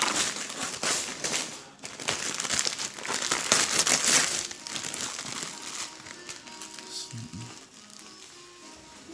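Christmas wrapping paper is crinkled and torn off a present in a close, busy rustle that builds, pauses briefly and then carries on in bursts, with family voices talking lightly over it.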